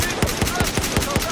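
Rapid semi-automatic SKS rifle fire in Battlefield 4 multiplayer Conquest, with about seven evenly spaced shots in quick succession over constant in-game battle noise.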